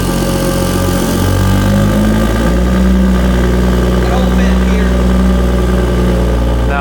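A Toyota A90 Supra fitted with a Ford 8.8 limited-slip differential swap idles loudly nearby, then its engine note rises and shifts as the car pulls away, with voices briefly over the engine.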